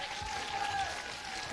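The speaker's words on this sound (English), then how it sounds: "One more round of applause, please." Audience clapping at a high school awards ceremony, a steady moderate round of applause from a crowd at some distance.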